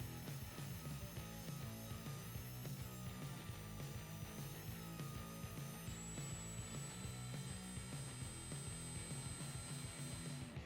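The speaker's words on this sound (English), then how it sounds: "Here's where I'm going to use a small rotary tool drum on my Dremel to carve out these lines." A small drum on a Dremel rotary tool carves grooves into foam, a steady, close, high-speed grinding whir that holds through, with a rough, buzzing texture and a thin, sustained high whine.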